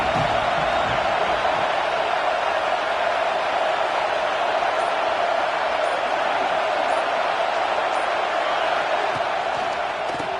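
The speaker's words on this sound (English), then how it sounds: "This crowd ready to make its presence known." A stadium crowd roaring at a college football game in the NCAA 26 video game, a dense, loud, unbroken wash of cheering noise that holds steady throughout.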